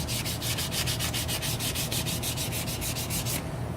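Sandpaper is worked over a wooden chef knife handle, a loud, even back-and-forth rasping with a fast steady rhythm of strokes that stops abruptly near the end.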